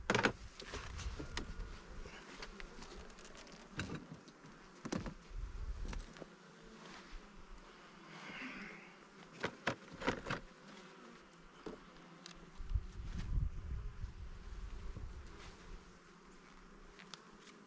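Honeybees buzz around an open hive during an inspection, a soft continuous drone broken by close passing buzzes and occasional knocks of frames and hive parts.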